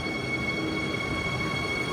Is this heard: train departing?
yes